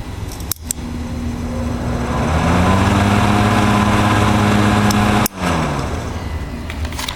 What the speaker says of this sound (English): Put the camera right against the motor.